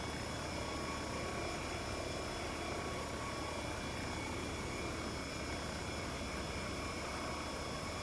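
The VSL 902X-NTR helicopter in the X-Plane 12 flight simulator flies over Tahiti with a steady, dense rotor and turbine drone and a thin high whine, constant and unbroken, with no speech.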